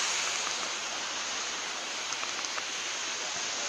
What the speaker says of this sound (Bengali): নিচে ঝর্ণা